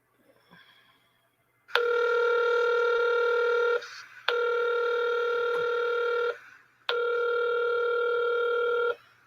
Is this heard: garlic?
no